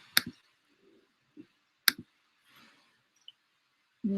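Several sharp computer mouse clicks, a couple of close double clicks followed by a few fainter ones spread across a quiet moment, with faint rustling and no talk.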